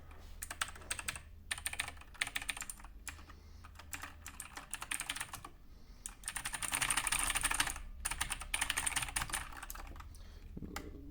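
Rapid, continuous clicking of typing on a white MSI GK50Z mechanical keyboard, close and crisp, with dense keystroke bursts that briefly pause and then pick up again, getting louder toward the middle, with no talking.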